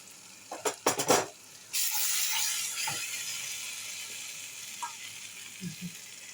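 Spice water splashes into a hot wok with prawns in poppy seed paste, setting off a loud burst of sizzling that hisses on steadily and slowly fades, after a few sharp clatters and scrapes of stirring.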